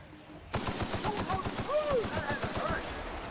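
Rapid automatic gunfire bursts out in The Outer Worlds after a quiet moment, a dense, loud stream of shots with a steady rhythm, along with a voice underneath.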